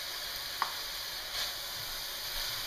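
Basil hits a hot pan of oil for salmon pasta, giving a steady, soft sizzle with a faint clink near the start and no voices.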